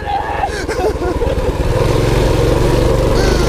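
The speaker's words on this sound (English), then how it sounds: "Oh, the throttle's stuck!" Motorcycle engine revving hard and steadily with a stuck throttle, a loud close roar that rises and holds, with excited voices shouting over it.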